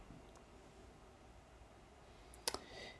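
A single computer mouse click on a save button, sharp and brief near the end, followed by a faint second tick, in a quiet room.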